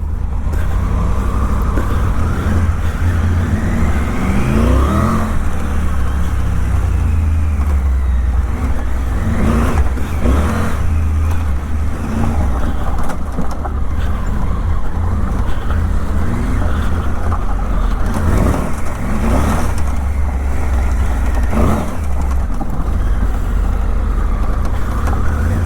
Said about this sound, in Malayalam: അന്യായ വീൽ സ്പിൻ, എന്നാലും ആ കൺട്രോൾ ഒരു രക്ഷയില്ല കേട്ടോ